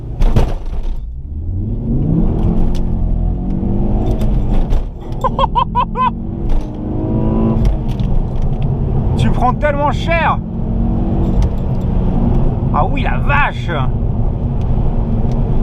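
A 2007 Ford Focus ST launched with launch control from first gear, clutch dropped at held revs. The engine note climbs hard through the run, loud and close, with excited French speech over it.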